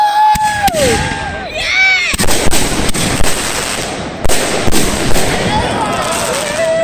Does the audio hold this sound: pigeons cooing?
no